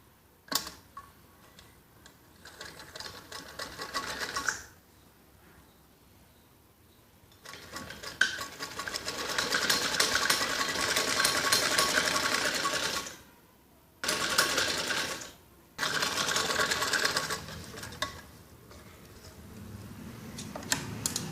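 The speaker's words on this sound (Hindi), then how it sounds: "ऊपर की साइड चारों पट्टी की पाइपिंग को ऐसे ही सिलाई लगानी होती है" A sewing machine stitches piping onto the four bands of a kids' top, running in long loud bursts of rapid mechanical ticking with short pauses between runs.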